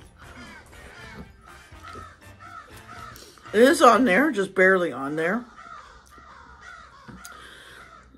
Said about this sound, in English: And the crow's got the last word.